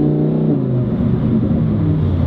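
A Lamborghini Huracan Performante engine runs loud and close, a steady low rumble with layered harmonic drone and slight rises in revs, heard alone for about two seconds.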